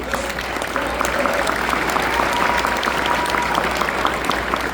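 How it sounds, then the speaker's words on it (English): Sustained audience applause fills a large room at the Feast of Nations, a student-hosted international university event: a dense, even clapping that holds steady throughout with no voices. "Another round of applause for them."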